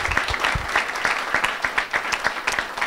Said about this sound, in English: if I could get everybody to join us in a round of applause for all of our panelists today